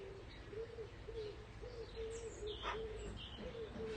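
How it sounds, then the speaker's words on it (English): Birds call outdoors, a soft, faint cooing repeated in an even rhythm, like a pigeon or dove, with a few higher chirps scattered over it. "Birds."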